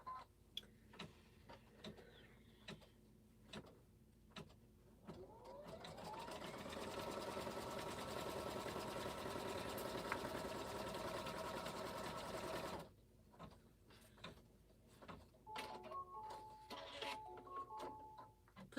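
A sewing machine runs a long continuous stitch attaching pockets to a quilt, a close steady whirring hum lasting several seconds, framed by softer ticking and clicking handling sounds before and after.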